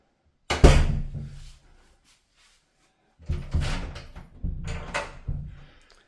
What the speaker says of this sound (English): So I've just come back downstairs now. I'm going to walk through, shut this door behind me.